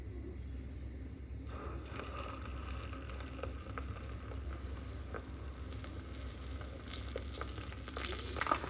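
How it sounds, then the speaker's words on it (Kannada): Aloe vera and onion paste cooking in hot coconut oil, a quiet continuous sizzle with soft crackles and sputters that grow a little louder toward the end; no talking. "ಆಲೋವೆರಾದಲ್ಲಿ ಸ್ವಲ್ಪ ವಾಟರ್ ಕಂಟೆಂಟ್ ಇರೋದ್ರಿಂದ ಸ್ವಲ್ಪ ಸಿಡಿಯೋ ಥರ ಆಗುತ್ತೆ"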